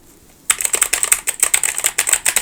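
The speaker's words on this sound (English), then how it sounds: "I only use mechanical keyboards." Rapid clacking keystrokes on a mechanical computer keyboard start suddenly after a short quiet moment and continue in a fast, uneven rhythm, loud and close, with no voices over them.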